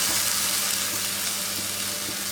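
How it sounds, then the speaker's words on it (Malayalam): Cooked lentils go into a pan of frying onion and chili, producing a continuous loud, hissing sizzle with faint stirring scrapes, close up and without voices. "ഇനി ഇതിലേക്ക് നമുക്ക് കുക്ക് ചെയ്ത് വെച്ചിരിക്കുന്ന പരിപ്പ് ആഡ് ചെയ്യാം."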